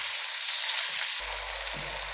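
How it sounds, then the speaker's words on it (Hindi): Boneless chicken sizzles in a pan, a close, continuous frying hiss with no voices. "अब हमने इसको खूब अच्छे से फ्राई कर लेना है।"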